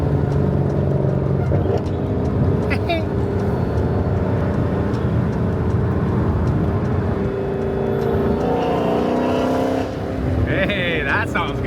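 A Dodge Hellcat with a Formula Z exhaust pipe rumbles loudly and revs continuously, a deep, sustained engine roar held at high RPM, with people talking over it throughout.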